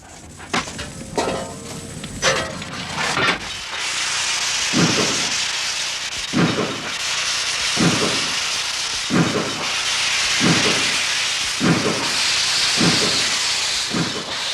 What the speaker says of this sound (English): Steam engines evoke a special affection.